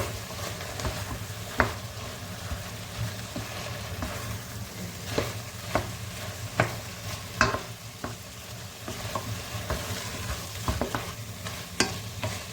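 Chili paste and red paprika frying in a pan while being stirred: a steady close sizzle with repeated scraping clicks of the utensil against the pan, continuing throughout with no talk.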